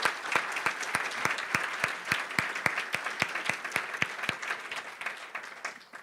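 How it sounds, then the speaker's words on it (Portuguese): An audience at a journal launch and lecture event claps in a fairly quiet, evenly paced rhythm of distinct sharp claps that continues for several seconds. "uma salva de palmas para vocês também"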